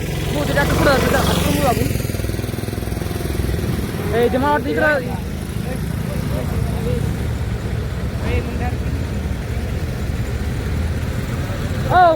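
A tractor on a village road, its engine a steady, fairly loud rumble throughout while people talk nearby.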